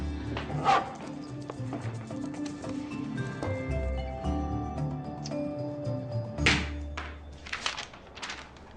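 A dog named Snickers barks in a few sharp bursts, one early and a cluster near the end, over steady background music.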